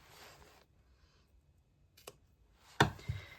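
Scissors snipping through sewn bag fabric at the bottom of a stitching line, with a few sharp, close cutting clicks separated by quiet pauses, the loudest near the end.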